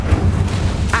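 Incendio fire spell cast in Hogwarts Legacy, a short loud whooshing burst with a low rumble under it, over in about a second.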